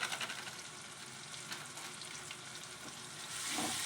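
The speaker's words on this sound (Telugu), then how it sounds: "టమాటోస్ ఫ్రై అయిన తర్వాత కారం వేసుకోవాలి" Tomatoes fry in a pan with chili powder and garam masala for egg bhurji, a steady close sizzle with stirring scrapes that swells slightly near the end.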